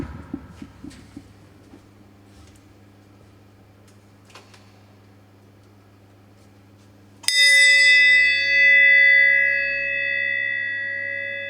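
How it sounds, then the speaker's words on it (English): A bell struck once after a quiet stretch, its bright ringing tone sustaining and slowly fading over several seconds, preceded by faint clicks and a low steady hum. "So let's ring the bell now."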